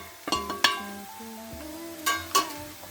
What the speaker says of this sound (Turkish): Biraz karıştırayım. Biraz haşlansın. Soğanla birlikte kavrulsun.